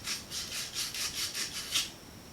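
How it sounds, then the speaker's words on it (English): A deburring cleaning tool scrapes back and forth on a pipe, about eight rhythmic rasping strokes, close and fairly quiet, ending in near silence. "this is a deburring cleaning tool"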